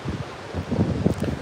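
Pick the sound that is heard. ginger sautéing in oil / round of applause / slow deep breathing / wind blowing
wind blowing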